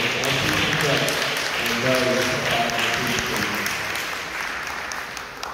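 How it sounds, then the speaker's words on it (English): Audience applause at a community council meeting in Brooklyn, a dense burst of clapping from a room of people that holds steady, then gradually thins out. "So give Dr. Mitchell a round of applause"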